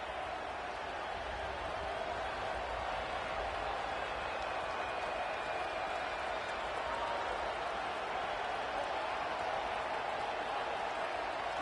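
A stadium crowd roars at a football game, a steady, broad wash of noise holding level throughout, distant and unbroken with no clear voices standing out.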